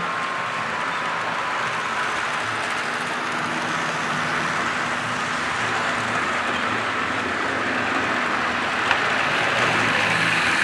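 A model US steam locomotive runs past on a track, a continuous broadband rolling rumble and hiss that holds steady and swells slightly toward the end, with a single sharp click near the close and no speech.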